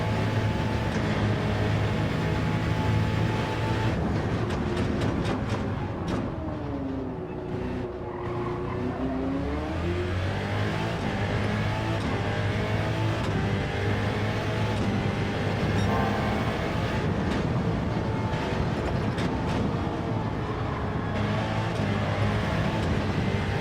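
A race car engine drones continuously in a racing video game, loud and steady with rising and falling revs as the car is driven.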